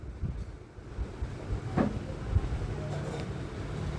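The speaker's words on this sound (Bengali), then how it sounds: "এই যে আসছে ট্রেন," A train pulls into a station with a low, rumbling roar, moderately faint and steady, mixed with wind-like noise on the platform.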